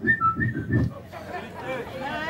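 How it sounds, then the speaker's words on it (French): A person whistles a short tune with several quick notes, then chatter and background voices take over. "tu vas commencer à siffler en passant"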